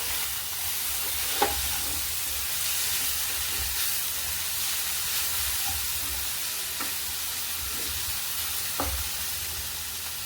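Paneer and vegetables stirred in a hot pan, a steady soft sizzle throughout with a few sharp scraping clicks of the spoon at intervals, close and moderately loud with no talking.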